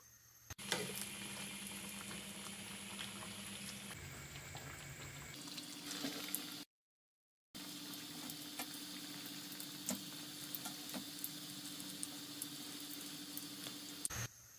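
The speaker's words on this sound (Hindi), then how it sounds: "स्लो आग पर हम कचौरी को फ्राई करेंगे ताकि बहुत ही क्रिस्पी बने" Chicken kachori deep-fry in oil over a slow flame, giving a dense, continuous bubbling hiss that stays steady apart from one short break of silence midway.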